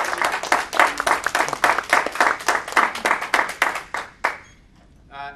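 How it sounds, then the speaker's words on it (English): An audience at a Toastmasters meeting breaks into enthusiastic applause, dense rhythmic clapping close by that holds steady for about four seconds, then cuts off sharply into near silence. "Let's get another huge, huge round of applause."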